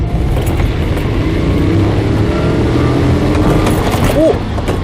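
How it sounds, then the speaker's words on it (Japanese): A car on a test drive after soft bump rubbers were fitted, giving a steady loud drone of engine and road noise from inside the cabin, continuous with no talking. "今両方組み終わったので、変化があるのかテスト走行していきます。"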